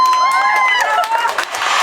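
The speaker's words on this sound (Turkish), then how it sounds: "Bu da alkış olsun." A crowd cheers and whoops with scattered clapping, bright shouts and excited voices layered close together in a short loud burst.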